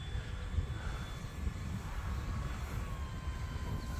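E-flite F4U-4 Corsair 1.2m RC model airplane flying on approach with gear down, a steady electric motor drone at moderate distance under slight wind.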